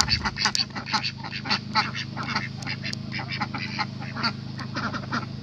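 Ringed ducks at a breeding farm with ponds quack in a near, busy chorus of repeated calls overlapping throughout.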